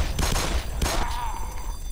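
Rapid gunfire in the video game Black Mesa as zombies are shot, a burst of several sharp close shots in the first second followed by a fading tail.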